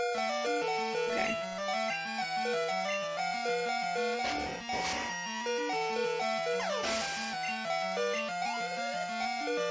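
Pokemon Crystal's low HP warning beeps on and on in a steady looping alarm, mixed over the game's music with brief noisy bursts of battle effects.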